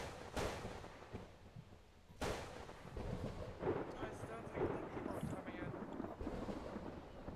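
Lightning strikes the ground in a Warhammer 40k Cadian military game session, with two sharp cracks followed by rumbling booms and scattered softer impacts, while players talk faintly underneath.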